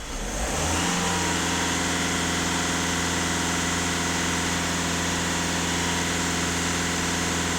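A Skoda Octavia engine idles steadily close by, a low continuous hum with a faint rev at the start, then holding even for several seconds.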